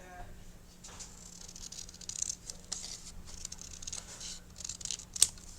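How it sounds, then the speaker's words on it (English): Scissors snipping paper while trimming pages for a chunky mini album, quiet close-up cuts in an irregular series, with one sharper snip near the end. "just cut a little bit off the sides"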